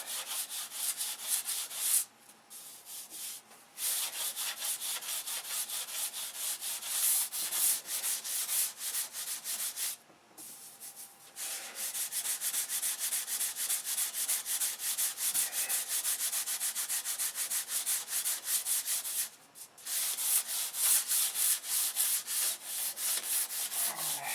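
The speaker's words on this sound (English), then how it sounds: "If you can feel it, you'll be able to see it when you paint it, so you might as well sand it out now." Steady sanding of a seam on a model build, a continuous close rubbing hiss broken by three brief pauses.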